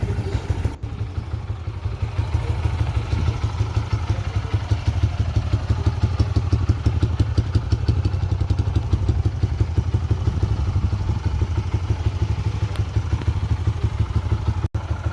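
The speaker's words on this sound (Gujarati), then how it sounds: "બાઇકને હું સ્ટાર્ટ કરું છું કિક વડે" A kick-started motorcycle engine, cold-started in the morning, idles steadily on petrol with a rapid, even putter and a mechanical clatter, close and loud, running the whole time without voices.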